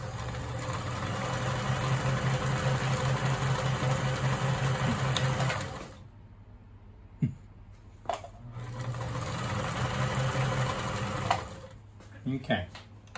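Kenmore sewing machine running a designer stitch on fabric, a steady rapid needle clatter for several seconds, a pause with small clicks, then a second run of stitching that stops again.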